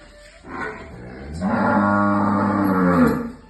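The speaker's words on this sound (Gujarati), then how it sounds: "આપણે જોઈ શકીએ છીએ અહીંયા સારી સારી નસલની ગાયો પણ છે અને ભેંસો પણ છે" Cows and buffaloes mooing close by, a long low drawn-out moo rising after a shorter call, with farmyard noise in the background.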